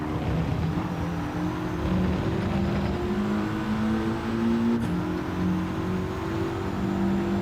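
A car engine in the Gran Turismo 7 racing game holds a steady, droning rev with shifting harmonic tones, loud and continuous throughout, with no speech.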